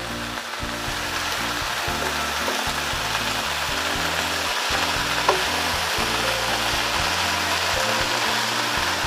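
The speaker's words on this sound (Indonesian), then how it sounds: "Kemudian saya aduk-aduk sampai merata." Tewel (young jackfruit) and cassava leaf stir-fry sizzles steadily in a pan while it is stirred over moderate heat. The close, continuous frying hiss carries faint scraping and shuffling from the stirring, with no talk.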